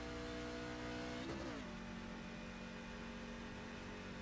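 A race truck engine in the iRacing simulator holds a steady drone, with a brief pitch dip as it shifts midway before settling back to a constant hum at moderate level, no talk.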